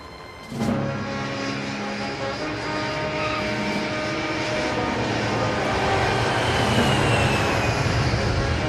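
An airplane in flight climbing, a loud steady engine roar that starts abruptly and grows slightly stronger, with a droning tone and no voices.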